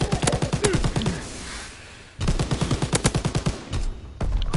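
Rapid SMG fire in a video game, loud close bursts of evenly spaced shots that break off briefly and then resume in another sustained stream.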